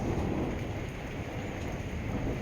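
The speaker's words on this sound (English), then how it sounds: "So the storm's starting to kind of subside now" Heavy rain pours steadily during a thunderstorm, with deep rumbling thunder blended into a dense, continuous roar that fills the whole stretch without a break.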